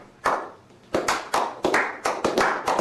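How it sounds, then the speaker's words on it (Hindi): Hands clap in an irregular run of about eight sharp, close claps with short gaps between them, with no voices. "ये तालियां बजाओ"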